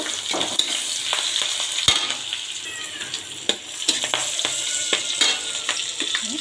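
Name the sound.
turmeric and green chilies sizzling in hot oil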